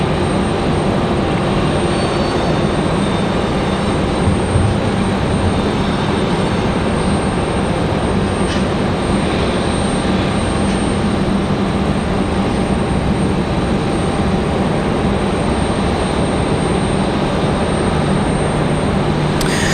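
Steady, loud aircraft roar at Raleigh-Durham International Airport fills the whole stretch, a continuous broadband engine rumble with no talk over it.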